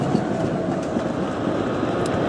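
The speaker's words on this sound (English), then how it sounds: "ballast hoppers" A ballast hopper train rolling through a station during engineering works, a loud steady rumble with rhythmic wheel clatter, close and continuous with no voices.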